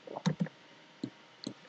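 A computer mouse clicks while an Excel chart is edited: a quick double-click, then two more single clicks, all soft and close.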